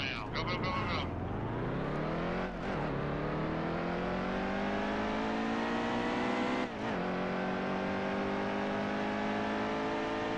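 A stock car in the NASCAR Heat 2 racing game revs up and holds a loud, droning engine note. The pitch climbs steadily and breaks briefly at two gear shifts, with no talking over it.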